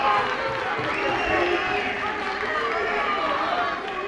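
A loud, steady roar of a crowd in a school gym during a high school wrestling match between Immaculata and North Hunterdon, a sustained dense wash of voices and cheering that holds for the whole stretch with no breaks.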